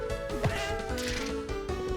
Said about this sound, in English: Had to come back and hear the cat sound again.